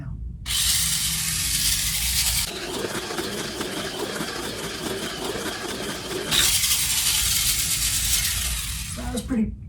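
A Tamiya Mini 4WD car with a freshly tuned Torque-Tuned 2 motor runs on a Japan circuit track, giving a loud, steady high-pitched whine that rises at the start, drops to a rattling hum midway, then climbs again before cutting off.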